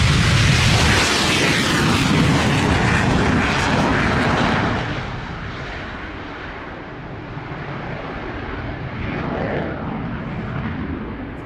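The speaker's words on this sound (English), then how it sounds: "we have another fabulous display, this time with the Polish F-16" Polish Air Force F-16 fighter jet performing a display, a loud, tearing jet roar sweeping past close by, then fading to a lower, distant rumble that swells again slightly.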